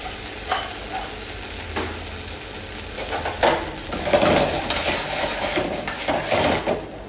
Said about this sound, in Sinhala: ඊට පස්සේ අපේ බීන්ස් එක අපි දාගමු.